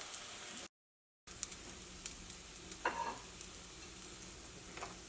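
Green gram and coconut roasting in a pan, with a faint, steady dry sizzle and occasional soft scrapes of stirring, heard alone at low level.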